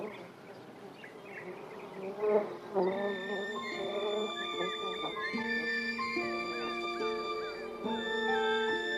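A honeybee buzzes on its daily search for nectar among flowers, a close, continuous droning hum that rises and wavers in pitch as it moves, with no voices.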